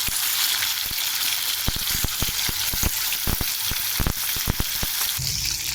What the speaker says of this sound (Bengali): তেলটা গরম হয়ে গেছে, ভাজবো এক এক করে।